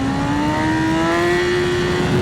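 A BMW M1000RR Stage 2 superbike engine revving steadily upward on a dyno, a loud close whining drone whose pitch climbs smoothly and continuously with no talk.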